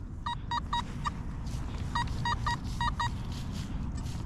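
Bursts of short electronic beeps from a Nokta metal detector over an old can, rapid triple pulses repeating in groups over a steady outdoor background hiss.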